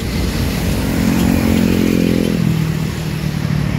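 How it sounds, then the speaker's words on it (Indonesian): A motorcycle passes close by in morning commuter traffic, its engine loud and steady with a rising, revving tone before easing off. "Ada kendaraan bermotor mau ke kantor, udah setengah 8."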